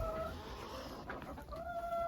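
Several chickens cluck and murmur close by, a busy, continuous chatter of hens with no talking.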